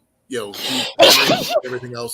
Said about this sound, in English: she's sneezing into my headphones.